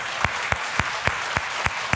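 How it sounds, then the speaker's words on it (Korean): A church congregation clapping in a slow, even beat during a Sunday worship service, seven sharp claps spaced about a quarter second apart over a steady room hum, close and clear. "이 박수 치줘야 되는 거 아닙니까?"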